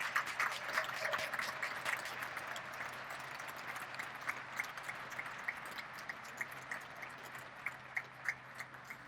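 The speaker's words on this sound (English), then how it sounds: "So let's give the Chiracosta family a great round of applause." Steady clapping from a crowd at the opening of a tennis pavilion at Cleveland State University, a dense patter of many hands with a few sharper claps standing out, continuing at moderate volume throughout.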